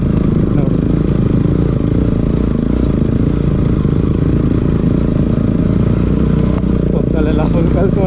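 A motorcycle climbs a hilly dirt road toward a hilltop temple, its engine a loud, constant close drone with gravelly clatter, while a rider talks over it continuously.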